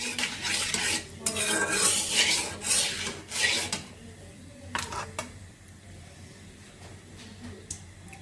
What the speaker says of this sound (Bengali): এই যে মশলা দিয়ে কষিয়ে নিচ্ছি